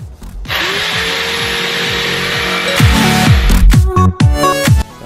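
A power drill whines loudly and steadily, then revs up and down in short bursts as it bores mounting holes for speakers in a Honda S2000 door, with clunks between pulses.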